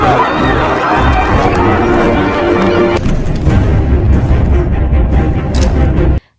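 A dense crowd in an action film scene murmurs and shouts in a loud continuous roar that shifts abruptly halfway through, then cuts off sharply at the end.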